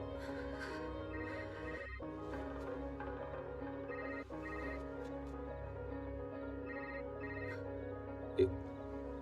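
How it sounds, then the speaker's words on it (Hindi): A telephone bell rings steadily and continuously at a moderate level, with no talking over it. "कौन इतनी रात को फोन कर रहा है तुम्हें?"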